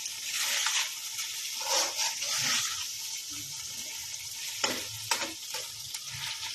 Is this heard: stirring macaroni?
yes